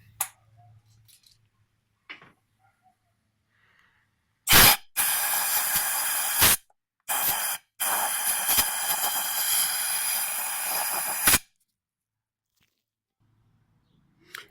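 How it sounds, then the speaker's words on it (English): Compressed air blasts into the spark plug hole of an Acura RSX engine, heard as a few close, loud hissing bursts, one brief and two longer sustained ones, separated by short gaps, with quiet moments before and after. "So I'll grab the compressed air right now and do that."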